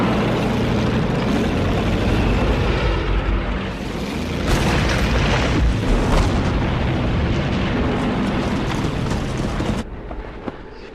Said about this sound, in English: with the rocket launchers they call Stalin's organs